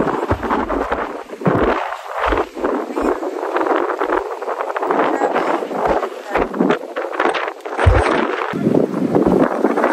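Strong gusts buffet the microphone at a rocky seaside viewpoint, roaring in uneven surges with fragments of voices underneath.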